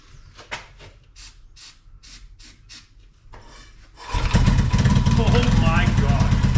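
Kick-starting a 1981 Yamaha XS650 motorcycle engine after years of sitting: several scraping kicks and clunks, then the engine catches and roars into a loud, steady, rumbling idle close by.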